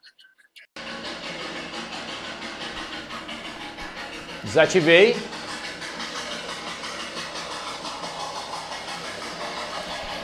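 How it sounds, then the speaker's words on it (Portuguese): A recording of a steam locomotive passing plays back as a steady rumbling hiss, with a brief louder burst midway, and a person speaks over it briefly. "Eu coloquei aqui um áudio de uma Maria Fumaça passando, um trem passando."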